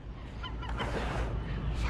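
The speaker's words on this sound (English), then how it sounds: "Fucking seagull, get your baby and go somewhere else." A seagull near its chick makes a guttural, gurgling growl on a rooftop, a rough and continuous close sound that swells and fades over a couple of seconds amid background noise.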